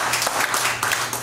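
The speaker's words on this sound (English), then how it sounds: "Give the Lord a hand clap this morning." A church congregation clapping hands during a Wednesday evening service, a brief burst of many hands applauding together, close and fairly loud.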